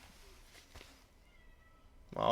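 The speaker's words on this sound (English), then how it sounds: "I don't like cats meowing up a storm" A cat meows loudly and close by in one bright, drawn-out cry at the very end, after a quieter stretch with faint background voices.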